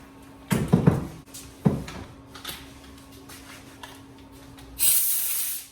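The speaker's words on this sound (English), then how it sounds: "I'll put some staples into the board here, and you can hear it." Several sharp pneumatic bursts close together near the start as an air stapler drives staples into board, run from a 26-gallon tank, then a longer hiss of escaping air toward the end.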